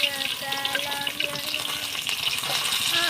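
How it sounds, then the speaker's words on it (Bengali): Fish lightly frying in a pan for a curry, a steady broadband sizzle with crackling pops running continuously at close range. "আমার মাছগুলো যে হালকা ভাজা হয়ে গেছে"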